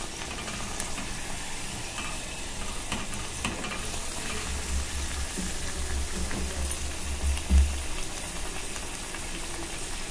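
Sweet pumpkin puri frying in hot oil gives a steady, even sizzle with a fine crackle throughout, close and moderately loud, with a low rumble and a small bump near the end.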